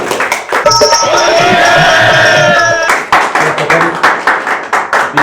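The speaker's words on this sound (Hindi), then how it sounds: "जोरदार तालियों से उनका स्वागत करें।" An audience breaks into loud applause with cheering to welcome a poet at a Holi event, then the clapping thins into scattered, rhythmic hand claps.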